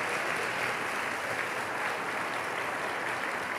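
A church congregation applauding during a sermon, a sustained, even burst of many hands clapping at full strength throughout.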